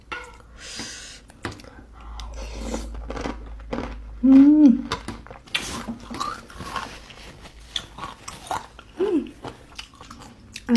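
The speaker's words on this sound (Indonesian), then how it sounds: "Pakai kriuk-kriuknya usus crispy." Crunchy chewing of Indomie soup noodles topped with crispy fried intestine, close to the mic, with uneven bites and mouth sounds, and one louder burst of munching partway through.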